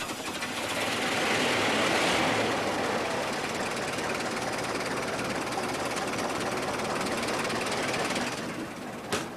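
A classic American AC truck engine with an impulse-coupled magneto runs during a cold start. It makes a loud, steady, rough mechanical rumble that holds for several seconds and then eases off near the end.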